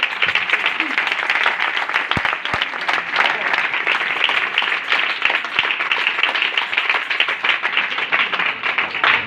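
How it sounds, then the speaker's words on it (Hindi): Loud, dense applause from a congregation at a Christian religious gathering, sustained clapping with scattered sharper claps, close and energetic, with some voices mixed in. "जिंदा खुदा बाप के लिए एक बार जोरदार तालियां।"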